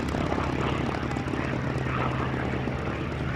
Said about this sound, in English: There she is, the P-40 Warhawk.